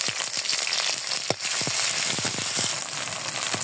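Chopped onions and green chilies fry in hot oil with bay leaf and cinnamon, a loud steady close sizzle punctuated by a few sharp crackles and stirring clicks.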